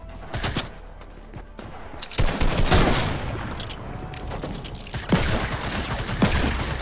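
Assault rifle fire in Fortnite: rapid bursts of gunshots come in clusters, loud and close, with some quieter distant shots between the bursts.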